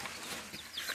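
Rooster clucking close by in a farmyard, a brief run of soft fowl calls over steady outdoor background noise.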